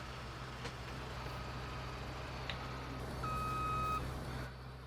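Tractor reversing beeps in Farming Simulator 19, a thin repeating electronic beep over a steady low engine hum, with a longer clear tone near the end.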